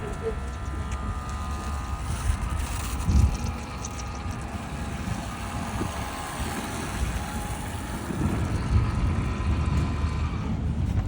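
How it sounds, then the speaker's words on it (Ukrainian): Cordless battery-powered garden sprayer running steadily outdoors, a constant motor hum under broadband wind-like rushing that holds for the whole stretch with a slight swell near the end. "В наявності у нас є акумуляторний оприскувач. Зараз я вам покажу, як він працює в роботі."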